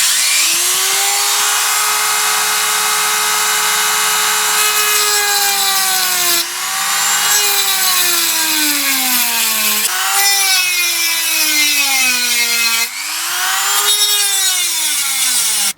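A Dremel rotary tool with a worn-down cutting disc cuts out a small section, a loud, close, high whine that sags in pitch under load over several passes, briefly stopping between cuts.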